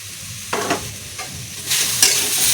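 Fried elephant foot yam with chilli and ginger paste being stirred in a hot pan, a few close scraping strokes over a rising sizzle.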